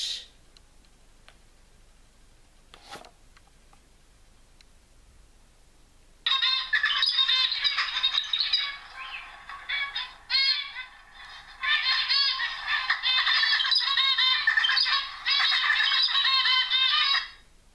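Parrot finches call in a dense, continuous chatter of high, rapid chirps, very close and loud, starting abruptly after several seconds of quiet and running on with brief pauses.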